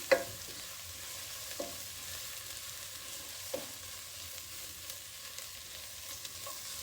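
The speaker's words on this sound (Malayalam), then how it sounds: "കുറച്ച് മല്ലിപ്പൊടി ഇങ്ങോട്ട് ഇളക്കി" Coriander powder being stirred and fried in a pan, a soft continuous sizzle with a few light scraping knocks from the spoon, close by and without any talking.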